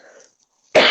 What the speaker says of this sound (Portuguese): Olha, já tive aqui umas tosses.